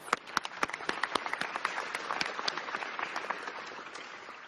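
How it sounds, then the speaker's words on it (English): An audience applauds during an agency's annual State of the Agency speech, with many hands clapping in a dense, steady burst that holds for several seconds and fades slightly near the end. "And worthy of applause."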